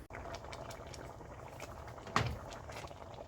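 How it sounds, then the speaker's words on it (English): Potato soup bubbling in a pot over medium heat, a soft steady low simmer with faint patter, and a brief clink or knock just past the middle. "It started boiling, so now we'll time it 20 to 25 minutes."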